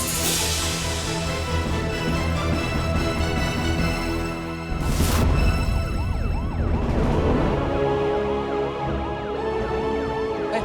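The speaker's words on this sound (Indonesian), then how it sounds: "Ambulannya udah datang itu." An ambulance siren wails loud and close as the vehicle arrives, its rising and falling tones continuing steadily over a rumbling background.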